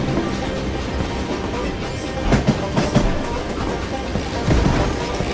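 A train rolls along steadily in the video game Call of Juarez: Gunslinger, giving a continuous rumbling rail noise with a few louder clanks and clatters of the cars. No one speaks over it.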